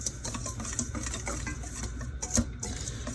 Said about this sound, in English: we're just going to give this a whisk